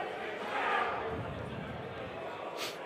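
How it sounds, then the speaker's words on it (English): A crowd of players cheers and shouts at a tabletop wargame team tournament, the Age of Sigmar Worlds Team Championship, rising in a brief swell early on amid steady hall chatter. "If you heard a cheer there."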